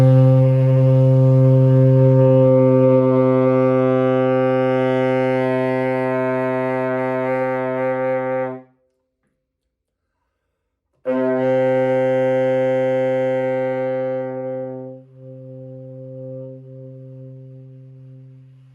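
A saxophone sustains a steady low note with a rich, buzzy tone, held for several seconds, pausing briefly, then resuming and gradually fading, played close and alone.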